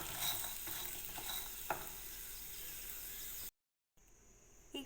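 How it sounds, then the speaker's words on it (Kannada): Fried jackfruit seed chips being stirred with salt, turmeric and chili powder, giving a steady scraping, rustling mix with a few sharp clicks, close and fairly quiet, then a brief silence before a short burst resumes. "ಸೊ ಇದಿಷ್ಟನ್ನು ನಾವೀಗ ಚೆನ್ನಾಗಿ ಮಿಕ್ಸ್ ಮಾಡಿದ್ರೆ"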